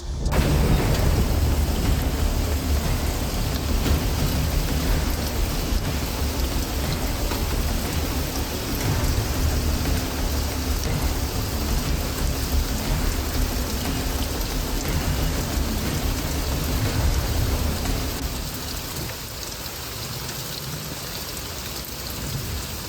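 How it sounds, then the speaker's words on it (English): Steady heavy rain pouring on a surface, a continuous dense hiss throughout, easing slightly near the end. "I think it's raining."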